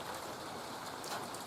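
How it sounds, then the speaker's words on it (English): Steady rain keeps falling outdoors after a night-long downpour, a continuous dense hiss with no breaks, moderately loud and close. "It's been raining all night."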